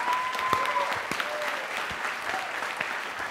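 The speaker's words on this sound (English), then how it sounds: "A round of applause to our panel this evening." Audience at an evening panel event on confronting modern-day slavery applauds the panel with sustained, moderately distant clapping and a few brief tonal sounds and voices mixed in.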